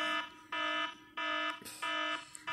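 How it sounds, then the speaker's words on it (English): An alarm clock rings in a movie, sounding in repeated harsh electronic bursts of roughly half a second with short gaps, loud and steady, with no voices over it. "It's the alarm clock thing."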